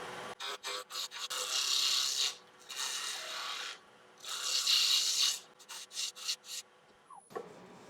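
A roughing gouge cuts a square wood blank spinning on a lathe, giving rasping scraping passes in several sustained bursts broken by sharp intermittent ticks and knocks, fairly close.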